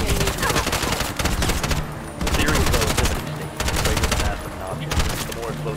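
Fast-paced video game gunfire, loud clustered bursts of shots with brief pauses between volleys, dense and close throughout.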